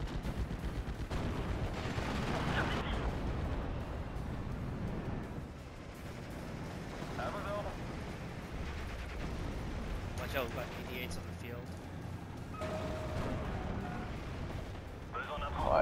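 75mm guns fire in the World War II strategy game Steel Division Normandy 44, with booming shots and crackling battle noise scattered across a busy mix while a player talks.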